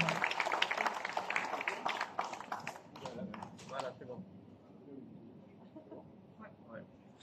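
Clapping from a crowd fills the first few seconds, dense and lively, then fades away into quiet room noise.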